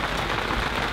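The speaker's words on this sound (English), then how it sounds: "Finally started to rain." Steady, dense rain hissing across a sailboat teak deck, close and fairly loud, with no voices.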